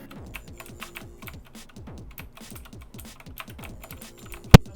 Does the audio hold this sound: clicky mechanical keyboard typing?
yes